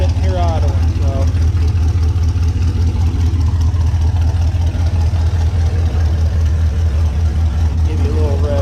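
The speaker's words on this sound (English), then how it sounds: "That 3 pumps of the gas, it's sitting here idling." Close, steady idle of a Grand Marquis LS with a 4.8 engine: a deep, even low-pitched rumble that holds unchanged throughout, with a voice speaking faintly over it.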